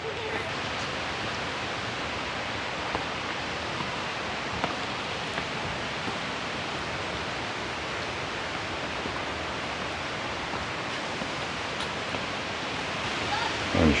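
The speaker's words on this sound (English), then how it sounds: "And there's Cane Creek Falls." Cane Creek Falls roars as a steady, dense wash of falling water, loud and unbroken throughout, with no distinct voices over it.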